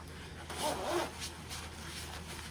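A Harley Davidson heated jacket's zipper is drawn up to a fleece collar, a close, scratchy rasp swelling through the middle of the pull and then easing off.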